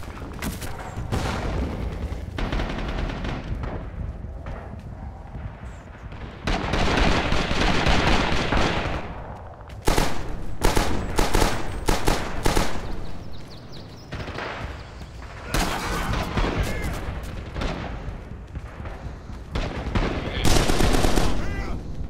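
Machine gun fire from a DM 1919 in the video game Red Orchestra 2, loud sustained bursts and rattling volleys recurring throughout, with other gunfire and scattered battlefield noise around it.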